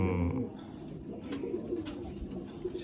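Pigeons in a loft of championship-bloodline flying pigeons, giving soft cooing and bird calls close by, steady throughout, with people talking over them.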